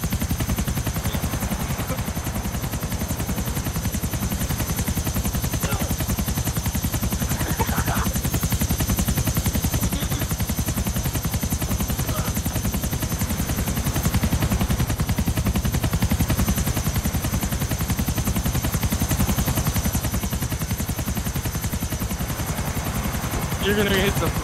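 A helicopter's rotor drones steadily and loudly in Grand Theft Auto IV, a constant whirring wash that fills the whole stretch with little change, with faint voices and scattered gunshots buried beneath it.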